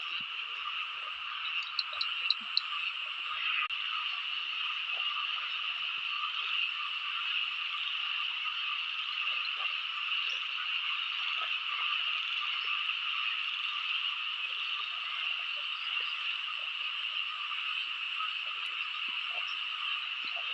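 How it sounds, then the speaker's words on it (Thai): A dense chorus of frogs croaks nonstop outdoors, a steady buzzing wall of calls that holds for about twenty seconds with a few sharper individual calls early on and no talking. "กบนั่นนี่"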